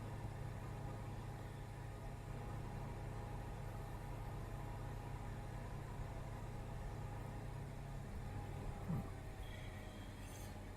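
A steady, low hum of an Allis-Chalmers auger tractor engine idling in a farming simulator game runs faint and unbroken throughout, with a brief faint click near the end.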